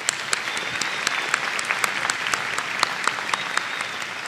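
A commencement audience at Washburn University claps in a sustained, even round of applause that fills the hall, with sharper individual claps standing out now and then.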